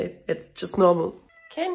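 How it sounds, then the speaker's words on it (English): A pet cat gives a short meow indoors, heard between and under a woman's close chatter. "that's my cat."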